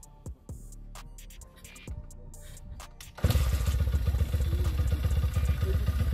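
A YCF Bigy 150 pit bike with a freshly adjusted valve is kick-started: a few clanks and thumps of the kick lever come first, then the engine catches and settles into a loud, steady, rapid single-cylinder idle close by.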